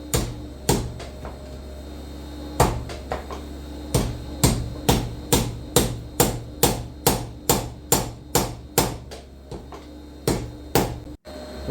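Hammer blows on hot iron as the jaw of a rushlight is flattened at the forge, about twenty sharp, ringing strikes in a steady, fairly quick rhythm with brief pauses, close and loud with no talk.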